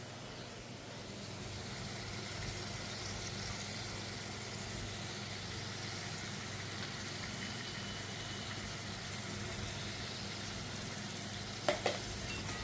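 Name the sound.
ginger and green chili paste being stirred and fried in oil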